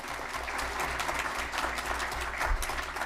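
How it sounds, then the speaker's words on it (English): Steady, moderately distant applause from the audience at a formal board meeting, a continuous patter of clapping hands over a low room hum with no talking. "Let's give them a round of applause."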